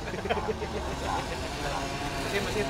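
The rear-mounted engine of a Toyota Kijang converted into a fried-snack food cart idles with a low, steady rumble while someone talks over it.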